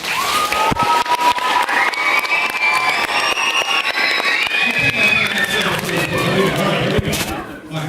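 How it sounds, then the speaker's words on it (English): Audience at a magic show cheering and applauding loudly and steadily for about seven seconds, with whistles and shouted voices mixed into the dense clapping before it tapers off. "but only if I hear enough applause"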